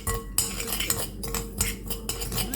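A spoon clinks and scrapes against a bowl in short bursts while yeast and sugar are stirred together, several distinct metallic taps over a steady mixing sound, close and alone.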